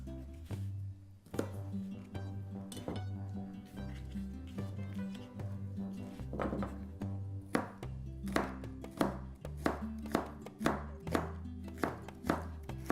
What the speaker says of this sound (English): And how you chop these really doesn't matter